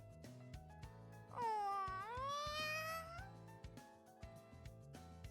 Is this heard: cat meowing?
yes